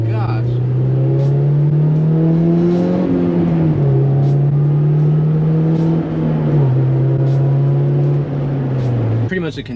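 A Honda S2000 sports car with a new exhaust idles and revs with a deep exhaust rumble, pitch rising and dropping, loud and close, ending with a brief rattle from the gutted rear.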